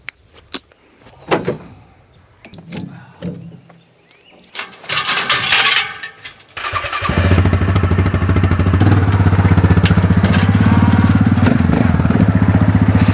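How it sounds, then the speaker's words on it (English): An ATV being unloaded from a truck bed: a few knocks and bangs of handling come first, then the engine starts and runs in a steady, loud idle with rising throttle. "we're going to unload the ATV"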